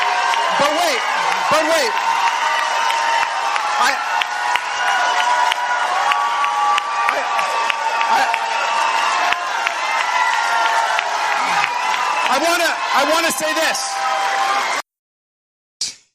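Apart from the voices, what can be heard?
crowd applause drowning out a speaker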